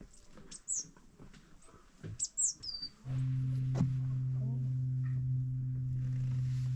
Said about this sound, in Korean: 새소리는 참 좋구만.